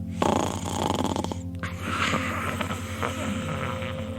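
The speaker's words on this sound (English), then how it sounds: "he immediately starts to snore" Steady rhythmic snoring, low rumbling breaths repeating close by over a constant hum, with no talking.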